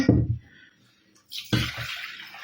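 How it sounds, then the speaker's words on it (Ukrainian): Water pours into a cooking pot in a home kitchen while preserving tomatoes and cucumbers, a brief splash followed after a pause by a steadier, louder stream of pouring. "Тепер цю воду я виливаю в кастрюльку."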